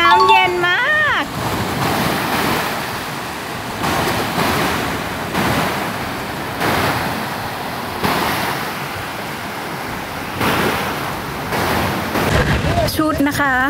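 Ocean surf rolls in at a beach in Khao Lak, Phang Nga, Thailand, a loud continuous roar of breaking waves with repeated surges and washes, close and enveloping.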